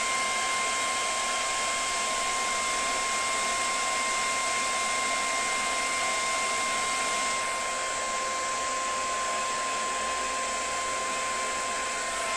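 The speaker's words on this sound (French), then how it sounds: "Voilà, sèche-cheveux." A hair dryer blows steadily on a CD case label to loosen it, giving a loud, close, continuous whirring hiss with a constant whine that holds for the whole stretch and never breaks off.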